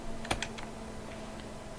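A few quick computer keyboard keystrokes, including a pressed number key, click faintly against a steady low hum, then the room goes quiet.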